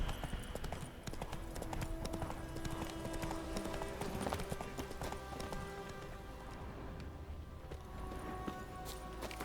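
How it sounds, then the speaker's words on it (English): Hooves of the horse Roach in The Witcher 3 video game clatter in a steady, fast galloping clip-clop, close and continuous under a busy game soundscape with no talk. "Run, Roach."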